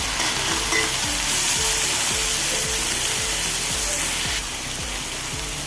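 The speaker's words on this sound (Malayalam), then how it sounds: "കോളിഫ്ലവർ ഇട്ട് കൊടുക്കണം വാടി വന്ന് തക്കാളിയും ഇനി കോളിഫ്ലവർ ഇട്ട് കൊടുക്കാം" Cauliflower and softened tomato fry in a pan for cauliflower curry, loud continuous sizzling with rhythmic scraping strokes of a spatula stirring about once a second, no one speaking.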